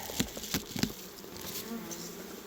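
Honey bees shaken out of a hive give a few quick thumps, then a soft, steady buzzing hum from the swarm, close by.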